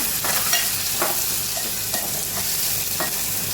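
Garlic and tomato added to browned onion in a hot pan, a loud close sizzle with a few light scrapes of stirring scattered through, no talk.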